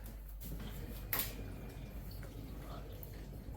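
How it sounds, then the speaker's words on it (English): A dishwasher running in a home sends faint splashing and dripping water into the background, a low continuous wash with a brief louder burst partway through. "Sorry about the extra water sound in the background, that is my dishwasher."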